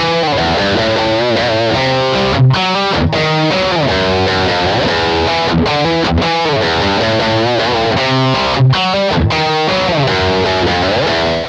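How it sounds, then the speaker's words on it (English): Distorted guitar through a Roland GR55 guitar synthesizer, a dense, loud, continuous riff of overdriven chords and sliding notes with a few short rhythmic breaks, playing alone with no voices. "Alright, let's listen to some distortion,"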